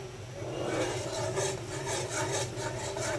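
Spices for a sweet and sour pickle fry in a pan while being stirred, producing a continuous, close rasping scrape in quick repeated strokes over a quiet background sizzle.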